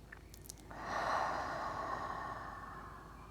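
A single long, deep exhale pushed out through the mouth as breath-work practice, heard up close as a soft airy whoosh that swells and then slowly fades, with no talking.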